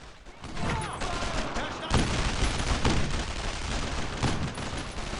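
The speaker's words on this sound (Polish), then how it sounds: "To jest Kar 98K niemiecki e, karabin e, powtarzalny." German Kar98K bolt-action rifle fire in the World War II shooter Brothers in Arms: Road to Hill 30, a dense run of gunshots with overlapping battle noise, loud and continuous, with a voice faintly underneath.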